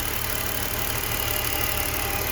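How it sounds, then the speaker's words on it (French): A BMW E46 with a petrol engine converted to E85 fuel idles steadily, its new injectors ticking in a fast, even rhythm over the low engine hum, recorded close up. "Là on entend que les injecteurs ils clacotent un peu plus que les anciens."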